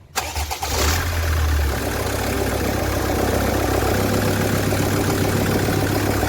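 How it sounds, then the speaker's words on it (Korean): A SsangYong Rexton that stalled while driving cranks and catches. A brief starter whir is followed by a loud, steady engine idle that runs alone to the end. "한번더 시동 걸어봐 걸어봐"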